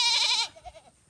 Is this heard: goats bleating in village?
yes